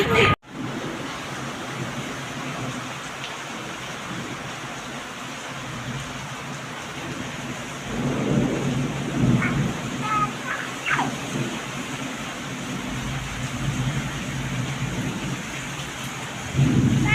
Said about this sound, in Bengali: দেখেন কত পরিমাণ বৃষ্টি আর ঝড় তুফান হচ্ছে